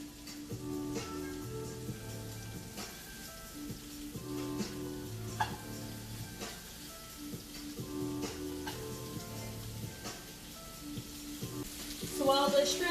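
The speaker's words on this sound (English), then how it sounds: "in the pan, and we're going to let them cook for a few minutes on each side so that they are nice and blackened" Blackened shrimp and vegetables sizzling in a pan, a steady low crackling hiss with occasional ticks and pops, faint beneath background music throughout, a brief louder flare near the end.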